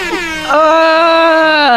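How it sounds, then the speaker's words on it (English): Air horn blasting in one loud, sustained tone that starts partway in and holds steady to the end, with a rich stack of harmonics and a slight bend in pitch. "He keeps finding more air horns."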